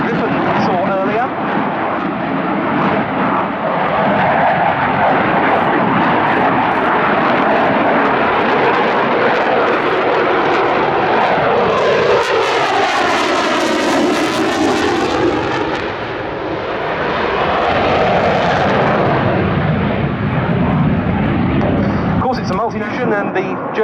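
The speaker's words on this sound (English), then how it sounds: "Interesting now to compare the minimum rate as a turn of the Typhoon versus the F-16s and Gripen we saw earlier." A Eurofighter Typhoon fighter jet turns at the Yeovilton Air Day 2017 airshow, its engine roar loud and continuous with a sweeping rise and fall as it passes, a commentator talking over it.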